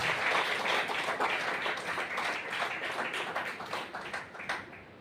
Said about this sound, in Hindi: इनके लिए भी जोरदार तालियां चाहूंगा